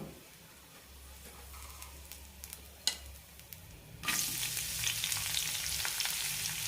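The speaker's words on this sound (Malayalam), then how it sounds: "എല്ലാ മസാലയും നന്നായി റോസ്റ്റ് ആവണം" Whole spices such as cinnamon, cloves and star anise roasting in a pan, faint stirring and scraping at first, then a louder steady sizzle that takes over partway through.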